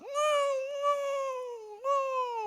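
A human voice imitates fighting cats near a church, with long, drawn-out yowling wails in two strained, rising-and-falling cries close to the microphone.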